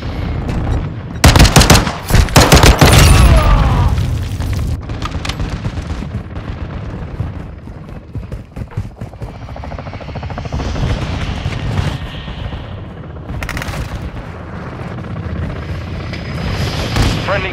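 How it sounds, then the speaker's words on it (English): A chopper gunner helicopter in Call of Duty: Modern Warfare 2 sends loud, rapid bursts of gunfire and blasts over a constant rotor drone. The firing is densest early and returns in shorter bursts later in the clip. "Friendly chopper gunner servicing targets."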